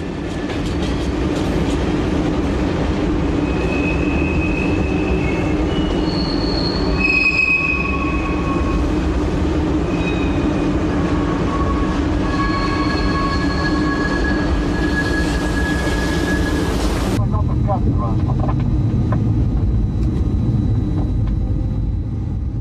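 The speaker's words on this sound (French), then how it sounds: "Et le 5053 démarre lentement" SNCF train 5053 pulls away slowly on the Paris–Dijon line, with loud, continuous rumbling and shrill wheel squeals that come and go, ending in a lower rolling roar.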